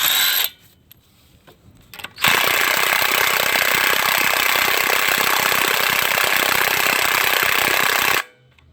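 A wheel comes off a 2013-2016 Ford Escape with a 1.6L turbo: after a quiet moment with faint clinks, a loud, harsh, continuous mechanical hammering rattle runs for about six seconds, then cuts off sharply.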